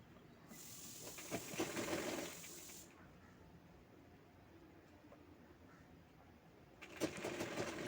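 A sewing machine stitching along the side of a small piece of cloth runs in two close, whirring bursts separated by a few seconds of quiet, with no talking.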